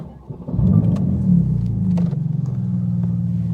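Porsche 911 GT2 RS engine starting to drive off, a loud, deep rumbling drone that swells and stays steady with a pulsing low throb, heard close and alone.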